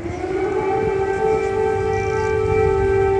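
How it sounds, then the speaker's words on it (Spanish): Air raid siren sounding over the streets of Kyiv, a sustained wailing tone held steadily and heard from a distance across the whole short stretch. "acompañados por el sonido de una sirena antiaérea"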